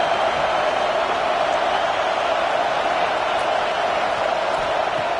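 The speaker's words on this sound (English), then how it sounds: "Listen to the crowd energy here in the early going." A football stadium crowd at a Nebraska game roars in a continuous, loud, even wash of cheering noise that holds steady without breaks.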